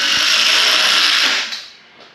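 A power drill boring anchor holes into a concrete wall during an apartment renovation, a loud steady whine for over a second that then winds down and stops.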